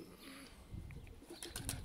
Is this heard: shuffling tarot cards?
no